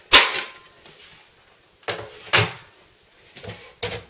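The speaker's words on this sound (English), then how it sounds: "you can remove the entire front bezel, and it is quite heavy because of the door" A heavy plastic front bezel with an attached door is pulled off a Thermaltake Soprano mid-tower PC case, giving several sharp clicks and clunks with quiet gaps between them.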